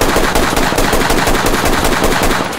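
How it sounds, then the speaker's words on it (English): Loud, continuous automatic gunfire from the tactical shooter Ready or Not: a dense, unbroken stream of rapid shots at close range with no speech over it. "Suppressing fire"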